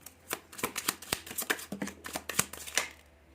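Tarot cards being shuffled by hand, a quick series of close, crisp riffling flicks and soft slaps at an uneven rhythm.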